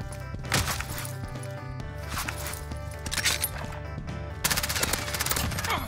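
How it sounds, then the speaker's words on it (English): Rapid bursts of automatic gunfire in a multiplayer shooter, loud and close with dense overlapping shots that intensify toward the end. "Shot! Under fire!"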